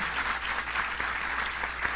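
An audience at a panel discussion on conflict mediation claps steadily in a brief, dense burst of applause, with no one speaking over it.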